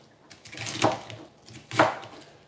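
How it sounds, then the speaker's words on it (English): Two crisp knife chops through cabbage on a board, about a second apart, close and clear with no talking. "I'm just roughly chopping the cabbage"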